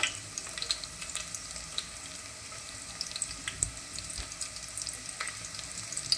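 Garlic and green chilli fry until crispy in oil, a faint, steady crackling sizzle with scattered pops and a few stirring clicks, heard close and alone.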